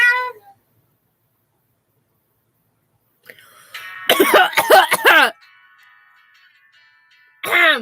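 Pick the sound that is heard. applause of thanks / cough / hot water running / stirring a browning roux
cough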